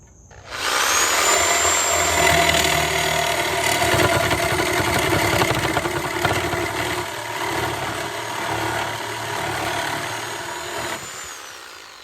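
A Warrior 6 amp reciprocating saw runs continuously for about eleven seconds, a loud buzzing rasp with a high whine as it cuts through a metal lawnmower handle tube, close by.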